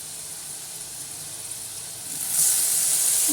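Water splashes into a hot pan of soybean curry and sets off a sudden loud hiss and sizzle. A quieter steady fry comes before it, and the hiss keeps going to the end.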